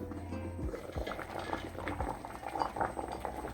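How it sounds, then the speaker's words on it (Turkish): Sweet corn simmering in water in a covered pot on a home stove, a steady low bubbling rumble with faint lid rattles and clinks throughout, no talk. "mısırlarım pişmeye devam ediyor"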